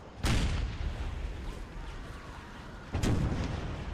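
Two heavy cannon blasts of canister shot from artillery in Empire: Total War, each a sharp booming report with a rolling rumble, spaced about three seconds apart over a constant battlefield din.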